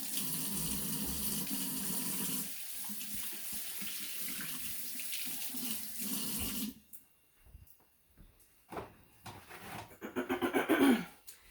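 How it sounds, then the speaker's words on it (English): A faucet runs into a sink for a hand wash, with a steady close stream that stops partway, then gives way to splashing, rubbing and dripping sounds. "Let me wash off my hands."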